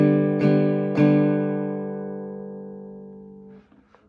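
Acoustic guitar strummed with the thumb and index finger for a song's strumming pattern: two close strums a half second apart, the chord ringing and fading for several seconds before brief faint handling noise.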